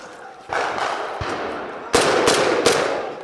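Gunfire at a WWII battle reenactment during a fighting retreat at a crossroads: several sharp, loud rifle shots crack close by, the last three in quick succession, over a rushing background.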